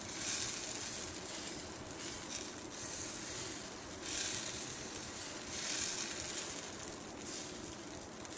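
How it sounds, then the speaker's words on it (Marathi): Jowar flour dosa batter sizzles on a hot pan, a steady, soft crackling hiss that swells and fades slightly throughout, with no talking. "परत मी डोसा घालते"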